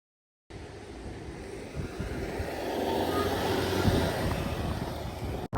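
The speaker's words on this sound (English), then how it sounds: "As we walk, the sound of a train grows louder in the distance." A train passes along the Rhine riverside in Bingen, Germany, its broad rumbling roar building steadily from quiet to a full, close wash of noise before cutting off abruptly.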